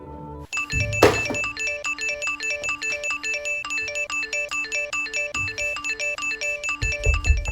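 A phone ringtone plays a repeating electronic melody over and over, loud and close, with a few thuds and bumps underneath.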